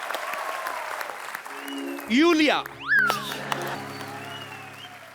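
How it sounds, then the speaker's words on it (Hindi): A stage show audience applauds to welcome a performer, with loud clapping and cheers rising over music, and a presenter speaks into a microphone. "आप सबकी जोरदार तालियों के बीच इनवाइट करना चाहूंगा"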